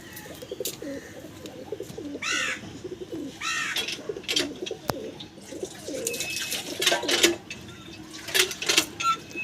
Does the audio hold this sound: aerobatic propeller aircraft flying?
no